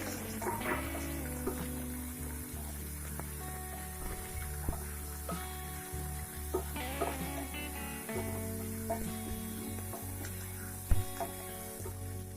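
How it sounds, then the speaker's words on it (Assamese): Boiled chickpeas fry in a pan with ginger-garlic paste and dried chilies, giving a continuous soft sizzle with occasional clinks and scrapes of stirring, close and fairly quiet. "এইখিনি এতিয়া অলপ সময় আমি ভাজি ল'ম।"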